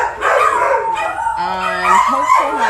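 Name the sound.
dogs barking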